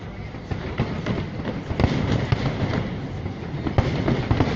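Fireworks bursting at a Canada Day 150 celebration, a steady rumble of distant pops and crackles with scattered sharper bangs over crowd noise, heard from within a busy outdoor gathering.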